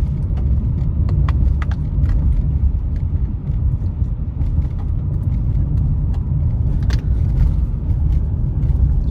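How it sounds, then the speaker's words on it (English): A car rolls through the town roundabouts of Big Bear near Bear Mountain ahead of a winter storm, giving a steady, loud low engine and road rumble with faint clicks and no talk. "we're gonna go driving by Bear Mountain right now"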